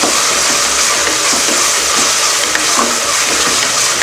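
Onion, green chilli, mint, coriander and tomato fry in hot oil inside a pressure cooker, giving a loud, steady, close sizzle that runs without a break.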